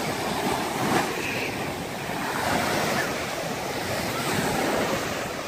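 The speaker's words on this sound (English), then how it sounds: "these waves." Ocean surf pounds steadily with gusting wind buffeting the microphone, a loud continuous roar of breaking waves without talking.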